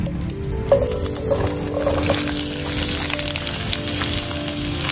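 Cut green tomato, eggplant and green chili, washed and drained, hit hot mustard oil and fry with a steady loud sizzle and scattered crackling pops, continuous throughout with no voices.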